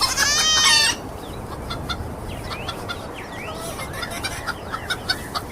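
A rooster's loud squawk opens, followed by softer chicken clucks and scratchy rustling as the chickens scratch at feed, over a quiet outdoor background.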